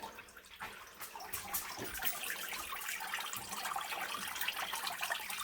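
Steady splashing, trickling water drains continuously from a bucket, fairly close, with a few irregular drips and gurgles over the flow.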